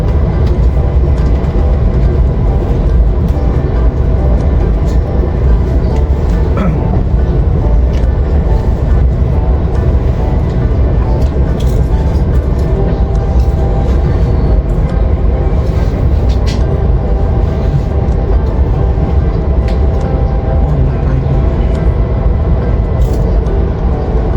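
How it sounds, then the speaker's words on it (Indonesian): Wijaya Kusuma train arriving at platform 4 of Solo Balapan station, a loud, continuous low rumble with rolling wheel and carriage noise, heard from on board and steady throughout. "Kita masuk di jalur 4 stasiun Solo Balapan."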